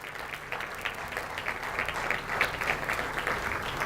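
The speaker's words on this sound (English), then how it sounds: "Big round of applause for both these, the organization and Dr." Audience applause at a fundraising event for Metropolitan Asian Family Services, a sustained wash of clapping from a sizeable crowd, moderately loud and even throughout with no speech over it.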